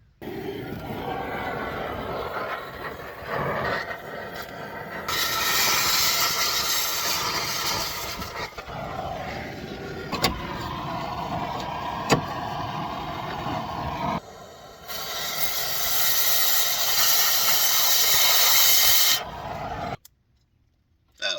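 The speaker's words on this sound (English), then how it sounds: "We'll get the torch out and cut that off." A cutting torch burns through a seized bolt on a Dodge Grand Caravan front end, giving a steady roaring hiss in two long sustained bursts, broken by brief sharp metallic ticks, then cut off abruptly.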